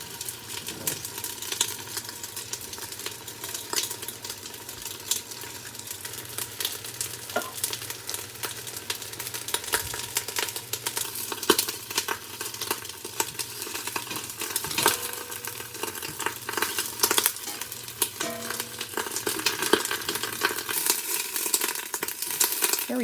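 Onions and a piece of ginger browning in a pot for chicken pho give a steady soft sizzle and frying crackle, punctuated by occasional scrapes and knocks of a utensil stirring against the pot.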